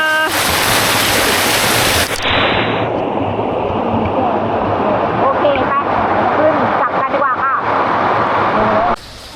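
Yong Waterfall in a national park roars as a constant, loud wash of rushing water, with a person speaking over it.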